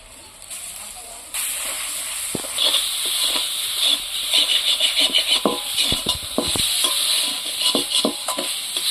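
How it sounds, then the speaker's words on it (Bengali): Ground lentil paste hits hot oil in a pan with an immediate loud hiss, then keeps sizzling steadily while it is stirred, with scrapes and clinks of a spoon against the pan. "ডালটা আমি এই তেলের মধ্যে ফেলে দিচ্ছি"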